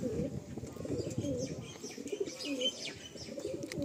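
Madrasi pigeons kept for sale coo in low, throaty, overlapping murmurs with scattered light chirps and rustling, fairly quiet and close.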